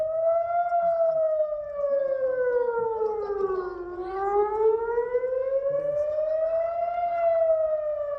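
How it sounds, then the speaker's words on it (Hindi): A loud wailing air raid siren in Israel during the Iran–Israel war, its tone slowly falling and then rising again in one long sweep, sounding continuously with no talking. "there's the air raid siren that's just on"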